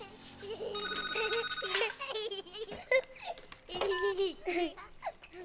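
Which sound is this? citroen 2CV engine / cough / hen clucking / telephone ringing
telephone ringing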